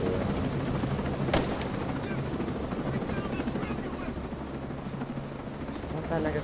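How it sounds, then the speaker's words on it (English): Loud, continuous helicopter rotor roar from a helicopter flying overhead in the video game Ghost Recon Breakpoint, a dense steady drone filling the whole scene with a brief sharp crack partway through. "helicopter is deafening"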